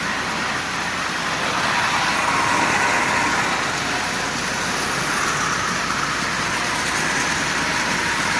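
A Marx B&O diesel toy locomotive of stamped sheet metal runs while pulling 21 cars, giving a steady close whirring and rattling rumble that holds evenly throughout with no voices.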